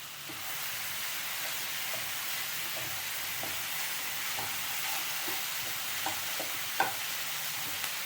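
Chickpeas with garlic cloves and curry leaves frying in a pan make a constant, even hiss with light scattered ticks of stirring, steady and close, ending in one sharper knock.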